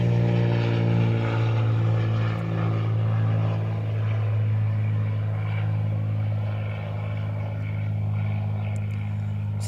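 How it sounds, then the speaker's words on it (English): A propeller airplane passes overhead above a backyard with bee hives. It gives a steady, loud droning hum with a strong low tone that holds for the whole stretch with no talking. "oh, got a plane going over. I'll wait for the noise."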